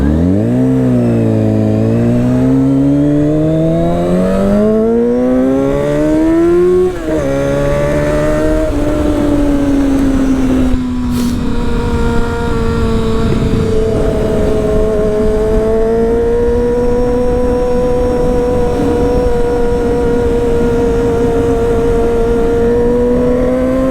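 A Honda CBR 600 sport motorcycle is ridden in the rain. Its engine revs up through several gears with rising and falling pitch, then settles into a steady cruising drone under strong wind and road noise, loud and close, with no talk.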